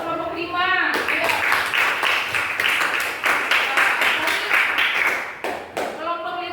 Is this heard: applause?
yes